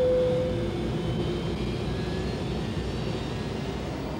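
An airliner descending on approach to Dulles airport produces a steady, fairly loud broadband engine roar that holds level throughout with a faint tonal whine, heard from inside or nearby with no talking.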